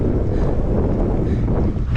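Strong wind roars across the microphone while cycling into Belgrade, Serbia, a continuous loud buffeting rumble with no speech.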